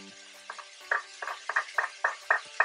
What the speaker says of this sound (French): Je mets l'ail tout de suite.